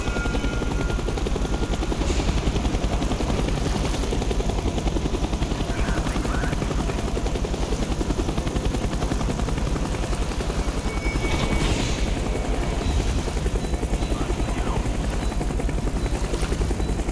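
Helicopter in Call of Duty Black Ops, a dense, constant roar of rotor chop filling the whole stretch at high volume, with faint scattered bangs in the background and no talk.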